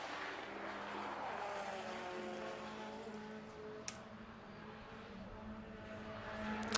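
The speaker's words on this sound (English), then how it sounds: "Also see there the rapid little Citroen Saxo, which is certainly one to watch out for" Citroen Saxo racing car on the Knockhill circuit, heard as a continuous engine drone with track ambience at moderate distance, steady throughout with a brief click partway through.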